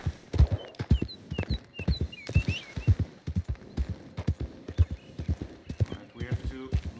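Horse hooves clip-clop in steady walking rhythm in Red Dead Redemption 2, close and clear, with occasional whinny-like tones and a few other sounds layered over the steps.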